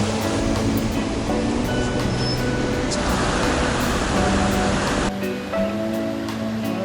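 A mountain river flows steadily past a riverbank, a loud continuous rushing wash of water that fills the scene without pause; the character shifts slightly partway through.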